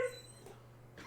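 A big puppy gives a short, high, nasal whimper, then goes quiet except for a faint breathy snuffle, all close and soft.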